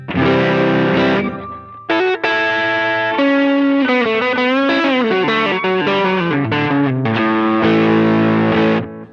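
An electric guitar played through an LS2 pedal with distortion engaged, a loud driven tone with sustained notes, bends and a short melodic run broken by brief pauses, with no talk.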